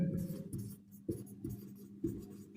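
Chalk or marker writing on a board in a maths classroom: short tapping strokes and scratchy lines in bursts, close and fairly quiet, with a faint voice underneath.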